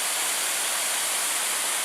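Shining Cloud Falls in the Porcupine Mountains, a steady, dense rush of falling water heard from a distance.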